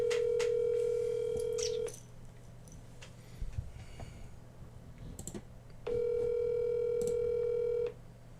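An outgoing phone call rings unanswered, two long steady ring tones at the start and again near the end, separated by a quiet gap with faint background rustle.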